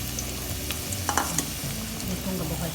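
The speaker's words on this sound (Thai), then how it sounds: "หลังจากหม้อเริ่มฮ้อนแล้วก็เอากระเทียมลงก่อนหมูเลยเนา" Soft steady sizzling of garlic frying in a hot pan, with occasional scrapes and clinks of a utensil stirring, close by.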